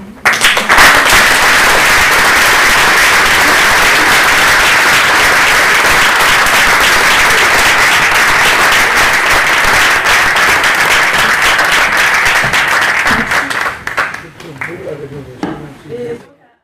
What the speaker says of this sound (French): Et donc, on va applaudir,